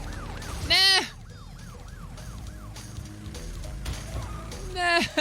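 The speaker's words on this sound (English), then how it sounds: "That police car just ruined all my dreams." A police car siren in Crash Bandicoot 3 wails in repeated rising-and-falling sweeps over busy game music and effects, loud and close throughout.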